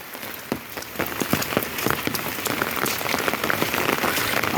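Steady monsoon rain falls throughout on a Sundarbans village, with dense patter and scattered louder drops hitting a nearby surface; no voices.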